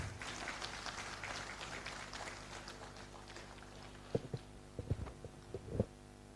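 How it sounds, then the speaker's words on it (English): Applause from attendees at a GeM procurement symposium at MCL headquarters greets a guest being felicitated with a shawl and bouquet. The clapping is moderate and fades, leaving a few sharp knocks and footsteps near the end. "A big round of applause, please."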